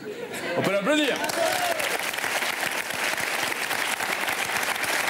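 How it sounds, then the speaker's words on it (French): Theatre audience at a comedy show bursts into warm, continuous applause with a few scattered laughs, starting just after a short spoken line and holding steady to the end. "On peut l'applaudir."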